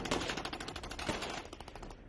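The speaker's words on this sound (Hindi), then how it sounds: "ये देखिए, आमने सामने की फायरिंग होती हुई दिखाई देती है" Soldiers trade automatic gunfire in a fight between the Pakistani army and BLA rebels, a rapid, steady string of sharp reports, faint and distant, that thins out toward the end.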